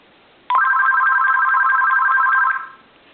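An AT&T EP9559 cordless telephone rings in one sustained electronic burst of about two seconds, loud and close, with no voices.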